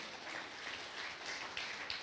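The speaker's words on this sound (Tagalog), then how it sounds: "Pwede po ba natin bigyan ng isang malakas na palakpak uli ang ating Panginoon?" A church congregation claps together in a soft, steady, distant round of applause that lasts through the whole short stretch.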